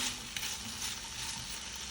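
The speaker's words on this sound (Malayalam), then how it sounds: "എന്നിട്ട് സവാള ഒന്ന് ചെറുതായി വഴറ്റിയെടുക്കുക." Onion sautéing with cooked chicken in a pan, a steady, fairly quiet sizzle and crackle with no break.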